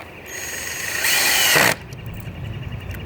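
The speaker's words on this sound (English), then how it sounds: "what I'm going to do now is mount the screws" A power drill driving screws into hinges while building a raised garden bed: one close, loud whirring burst of under a second, with quieter workshop hum before and after.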